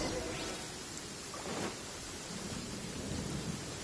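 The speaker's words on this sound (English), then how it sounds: "Uh-oh! Lightning storm!" Thunderstorm in the video game Genshin Impact, with a steady hiss of rain and low, rolling rumbles of thunder that build from about midway, heard alone at moderate level.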